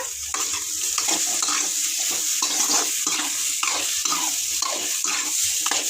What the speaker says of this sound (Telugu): బీట్రూట్ ఫ్రై అలాగే ఉప్పు పసుపు వేసేసిన అలాగే కలిపేసిన